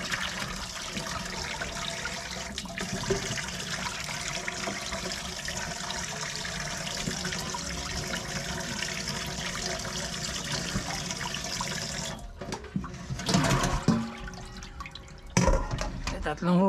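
Beef spare ribs rinsed under a running kitchen tap, a steady close rush of water lasting most of the time, followed by a few splashes and drips near the end.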